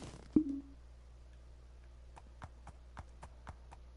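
Slow horse plodding in a PS4 game with seasons, hooves clopping in a steady, evenly spaced rhythm after a brief thump, moderately close and alone with no talking.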